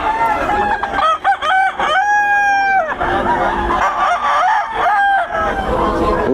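Several roosters at a gamefowl farm in Bocaue crow in loud, overlapping calls, one long drawn-out crow standing out, with background chatter and occasional voices nearby.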